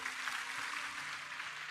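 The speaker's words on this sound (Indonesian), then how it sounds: "Berikan tepuk tangan untuk Yesus." A church congregation claps during a worship service, a dense, steady wash of applause heard from some distance at low level, with a faint sustained tone beneath it.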